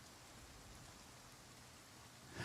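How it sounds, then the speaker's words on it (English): Steady rain falling in the survival game Project Zomboid, a constant even hiss with no voices, swelling slightly louder right at the end. "It's raining constantly."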